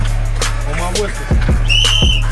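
A coach's whistle sounds at a basketball skills camp, with two short shrill blasts late in the moment. Before them come background voices and the thump of bouncing balls on a gym floor.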